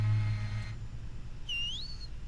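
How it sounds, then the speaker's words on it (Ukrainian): Person whistling in the Backrooms Escape Together co-op game: a single short, rising-then-falling whistle over a steady low background hum, faint and somewhat distant. "Я, я свищу йому."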